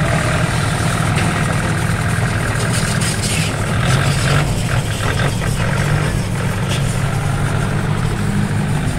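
A Kubota L1-33 four-cylinder tractor engine runs at a steady idle, a loud, close, continuous low rumble and chug that holds unchanged throughout, with no voices over it.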